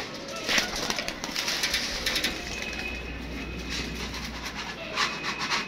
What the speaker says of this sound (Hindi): ये लग रहा है कि घर के पीले रंग के कबूतर हैं वो देखो वो आ गए